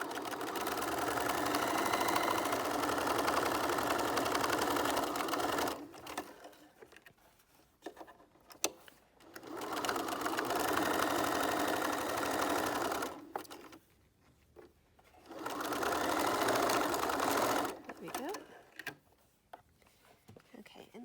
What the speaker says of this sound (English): sew along this edge, but make sure you don't sew into any of the straps